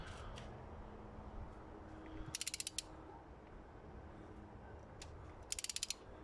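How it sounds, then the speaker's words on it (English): Two brief bursts of rapid mechanical clicking from a torque wrench tightening a spark plug to 25 newton meters, close but quiet over a faint background hiss. "That click right there tells us that this spark plug is torqued down to 25 Newton meters."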